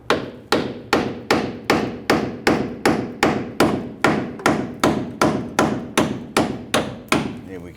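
Roughly sixteen sharp, evenly spaced hammer blows tap a pin out of a fuel tank strap on a 2007-2021 Toyota Tundra, each strike a loud metallic knock with a short ringing decay, alone without speech.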